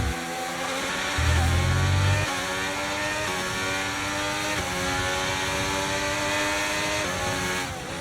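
Formula One race car engines in the F1 23 video game, closing in on a McLaren before an overtake, hold a loud, continuous high-pitched whine whose pitch rises and falls slightly, with no voices.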